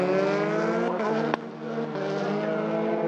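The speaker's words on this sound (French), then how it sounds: "Jules Gounon passe pour la deuxième fois ce samedi la ligne d'arrivée en vainqueur devant Denis Hanneschin et Marco De Peretti." A Formula 4 race car crosses the finish line at a French F4 championship round, its steady high engine whine loud and near, with a brief click partway through.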